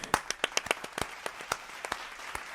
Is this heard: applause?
yes